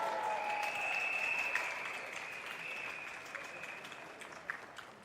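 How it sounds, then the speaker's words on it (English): An outdoor political rally crowd at UOB Plaza applauds policemen, a broad, distant wash of clapping and cheering that fades slowly over several seconds with no speech on top. "Give them a round of applause."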